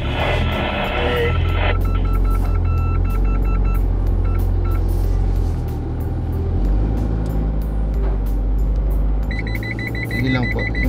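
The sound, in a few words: Isuzu D-MAX parking sensor beeps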